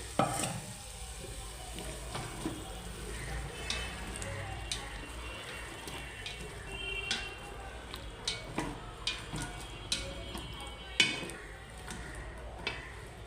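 Potatoes and greens stalks frying in a pan for a shrimp and greens curry, a low steady sizzle broken by repeated scraping clicks of a spoon stirring, fairly quiet and close.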